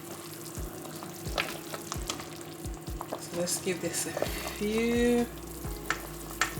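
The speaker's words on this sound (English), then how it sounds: "As you can see, it's boiling really nicely." Jamaican Saturday-style vegetable soup with meat boils in a pot. It gives a steady, close bubbling hiss with scattered clicks and knocks, and a voice speaks briefly over it.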